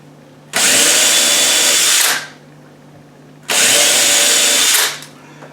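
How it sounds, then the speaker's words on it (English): Two loud bursts of a power drill drilling pilot holes for cabinet latches, each about a second and a half, whirring close up with a quiet hum between. "we're going to drill, and we're going to drill our 2 pilot holes"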